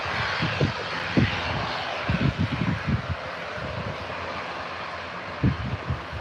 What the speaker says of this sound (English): opefully you got this on flight radar, Alan, so you can track the flight as it goes over, pal.